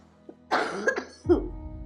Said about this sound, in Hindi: खांसी उठी आई